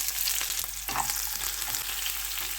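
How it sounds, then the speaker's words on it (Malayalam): Chopped shallots frying in hot oil for Kerala sambar give a steady, close sizzle that swells briefly as they hit the pan, then crackles on evenly with no talk over it. "ഇനി ഇതിലേക്ക് നമുക്ക് ചുമന്നുള്ളി ഇട്ട് കൊടുക്കാം."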